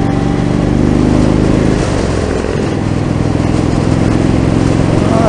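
A 2017 Indian Chief Dark Horse cruiser motorcycle rolls along in third gear, giving a loud, continuous engine drone with wind rush and no talking.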